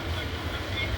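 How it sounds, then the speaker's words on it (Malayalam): A train pulls out of Punalur station, a steady low rumbling roar of the moving cars filling the background without distinct clatter, with faint voices mixed in. "കൃത്യം 1:04 ഇവിടുന്ന് ട്രെയിൻ എടുത്തിട്ടുണ്ട്."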